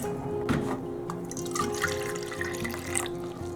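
White vinegar poured into a brine of herbs, garlic, peppercorns and salt, a close, wet trickle and splash that runs with a few drips over several seconds.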